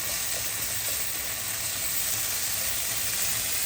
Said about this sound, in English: Cook this well till your tomatoes melt.